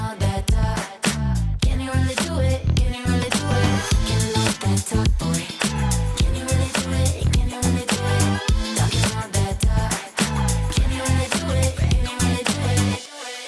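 A funky disco hook built from samples, with choppy electric guitars, a chopped electric bass loop, punchy drums and a vocal line, plays as a dense, loud, rhythmic loop with steady pulsing beats throughout.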